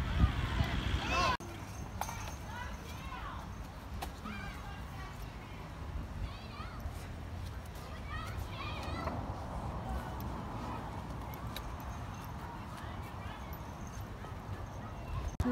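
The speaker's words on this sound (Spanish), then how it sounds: "El caballo con la carreta." Horse hooves clip-clop as the animal pulls a cart at a farm, a steady rhythm of light knocks heard under children's and adults' talk and general crowd noise, fairly close throughout.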